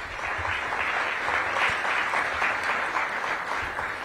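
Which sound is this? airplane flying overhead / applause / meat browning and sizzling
applause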